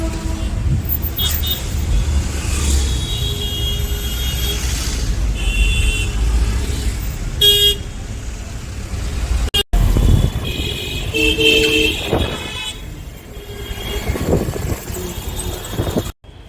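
Busy road traffic outside Mumbai Central railway station, with a constant engine rumble and repeated car horns honking nearby, plus a brief sharp thump partway through.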